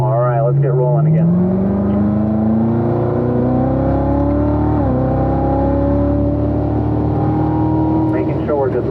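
A race car accelerates hard away on the Spring Mountain track, its engine climbing through the revs with rising pitch, loud and close throughout, easing briefly midway before pulling again.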